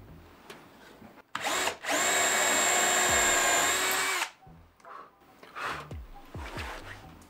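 A power drill with a Forstner bit spins up and bores through wood steadily for about three seconds, loud and close, with brief tool handling and clatter before and after.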